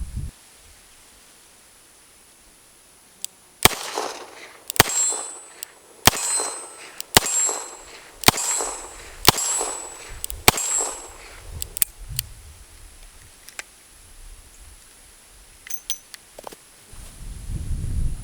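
A S&W 686 revolver fires at steel targets, about eight sharp shots spaced roughly a second apart, each followed by a bright metallic ring, then a few fainter clanks and rustling as the shooting stops.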